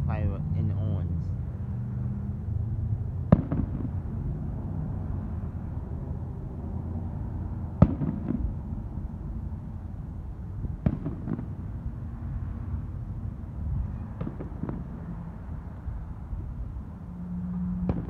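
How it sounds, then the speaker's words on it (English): Fireworks over Orange on July 3rd, heard from a distance as four or five sharp booms spaced several seconds apart over a steady low rumble of crowd and traffic noise. "this is on July 3rd for fireworks in Orange"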